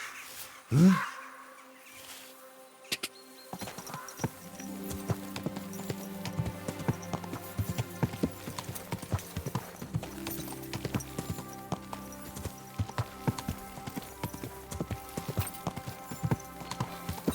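Horse hooves clip-clop steadily in the medieval video game Kingdom Come Deliverance II, a close, even rhythmic trot after a brief opening thump.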